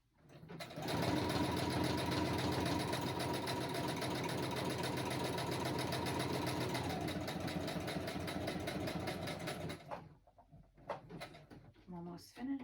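A sewing machine stitches paper belly bands in one continuous, steady mechanical whir for about nine seconds, then stops, leaving faint rustles and handling noises close by.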